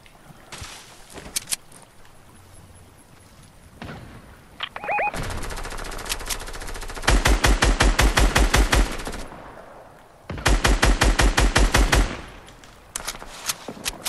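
Gunfire in the video game Fortnite during a solo squads match: bursts of rapid automatic fire and scattered single shots, loud and close, with footsteps and quieter stretches between volleys.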